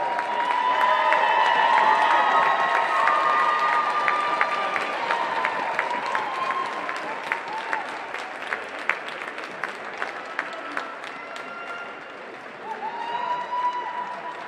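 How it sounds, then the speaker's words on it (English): At an ISHSHA state high school hockey tournament, a crowd applauds and cheers for the runner-up team, broad sustained clapping with raised voices and whoops, swelling again near the end. "A big round of applause for your Class 1A runner-up Homestead Spartans."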